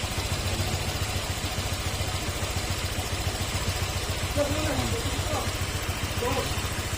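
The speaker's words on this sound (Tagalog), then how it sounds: "sa tunog ng makina, smooth ang tunog." A Honda Click 125 V3 scooter engine idles steadily with an even, smooth pulse, close by, while someone talks over it.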